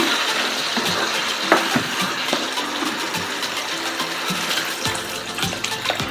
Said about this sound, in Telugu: వాటర్ పోయాలి వాటర్ కొంచెం ఎక్కువగా పోయాలి